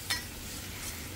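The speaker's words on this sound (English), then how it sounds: "So I'm going to go ahead and throw down some onions. I'm going to get that butter right in the onions so those continue to cook." Onions sizzle softly in butter on a Blackstone griddle, a faint steady frying hiss with a brief scrape or clink near the start.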